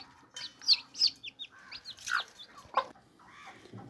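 Young chicks peep and chirp in quick, bright bursts while being given their first starter feed, a scattered run of calls close by with no talk.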